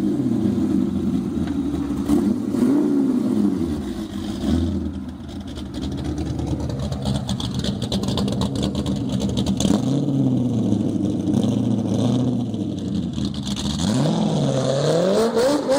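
Chevrolet C4 Corvette making about 1690 horsepower revs hard and loud, its engine note rising and falling through repeated throttle blips with a brief dip in the middle, steady and close with no talking.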